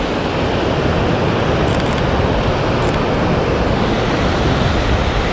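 Surf rolls and breaks steadily on the ocean where surfers ride the waves, a dense, continuous wash of broadband roar with no voices, heard from the shore.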